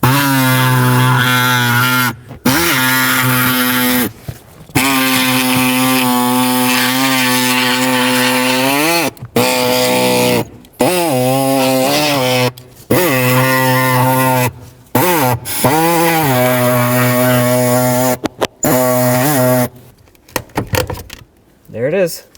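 A small pneumatic air saw cuts through the plastic blower motor housing of a 2007-2009 Saturn Aura, running in loud, close, buzzing bursts of several seconds each, separated by brief stops.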